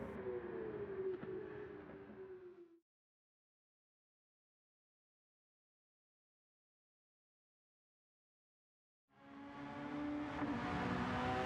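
A Suzuki Carry kei truck with a swapped engine drives in Gran Turismo 7, its engine note droning steadily before cutting to silence for several seconds, then returning as a stronger, higher-pitched run.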